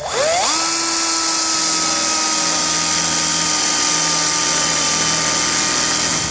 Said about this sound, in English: I'm going to start with somewhat of a small drill bit just to kind of help me get through and have less